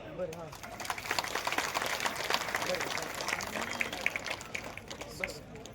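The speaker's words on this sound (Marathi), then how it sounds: "इंदापूरकरांच्या हक्काची टाळी द्या" Audience applause at a felicitation ceremony in Indapur during an aid distribution event for disabled and elderly beneficiaries, a steady crowd clapping sustained throughout, heard at moderate distance with some voices mixed in.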